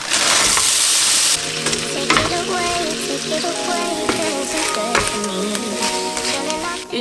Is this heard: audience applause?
no